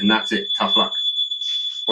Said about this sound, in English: I got my fire alarm going.